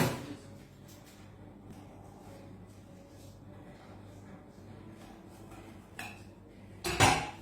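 A pan-baked arancino is cut with cutlery right in the pan, heard as quiet scraping and a few metallic clinks that end in a louder clatter of utensil against pan.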